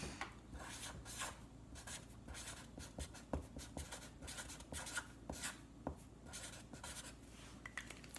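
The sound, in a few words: writing the word gratitude on a jar label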